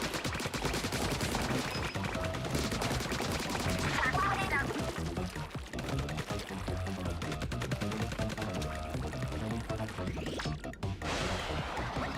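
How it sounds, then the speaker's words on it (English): Continuous rapid shooting in the Splatoon Raiders video game, a dense stream of splattering shots running steadily throughout with little pause, mostly on its own. "Oh, I can also shoot normally."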